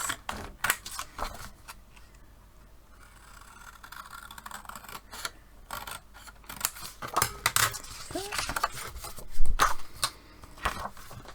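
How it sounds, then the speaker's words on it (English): Long straight scissors snip repeatedly through paper in short, crisp cuts with uneven pauses between them, close and fairly quiet. "I'm just going to cut that with my nice long straight scissors."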